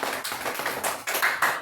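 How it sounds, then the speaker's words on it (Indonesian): A classroom of Indonesian schoolchildren claps together in a civics lesson, a quick patter of scattered hand claps in short bursts, fairly close and lively, without talk over it. "Tepuk tangan."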